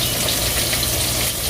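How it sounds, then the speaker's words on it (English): Pot of water boiling on a stove, a loud close steady roiling hiss and bubbling that holds unbroken throughout. "You see this, how it's boiling?"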